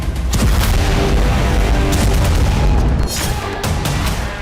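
Missile strikes hit eastern Tehran, heavy booming explosions rolling loudly one into another, with a couple of sharper blasts cutting through the continuous rumble.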